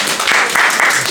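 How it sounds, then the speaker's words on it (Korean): A church congregation applauds at a Sunday service right after a missionary's testimony, a dense, steady wash of clapping that holds for the whole short stretch. "우리 박수 하겠습니다."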